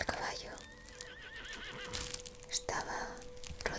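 A horse neighs with a long wavering whinny as a rider dismounts in a medieval fantasy setting, followed by soft hoof clops and rustling, close and fairly quiet under a gentle ambient bed.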